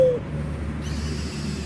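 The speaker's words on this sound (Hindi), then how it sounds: "एक बार हम अपने उल्लू को बुला के देखते हैं।" An owl hoots once when summoned in the video game Far Cry Primal, a brief clear call at the very start over a steady low game ambience.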